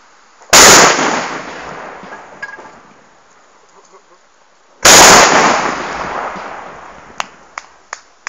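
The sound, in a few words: carbide cannon shot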